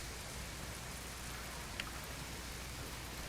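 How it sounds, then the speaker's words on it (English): Steady, soft rain falls at night in a video game, a constant hiss of drops with no other sounds. "it's getting nighttime now, and it's raining"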